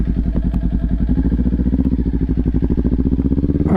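Kawasaki Ninja 400 motorcycle engine running steadily up close, a loud, even rapid pulsing drone with a fast regular rhythm and no talking.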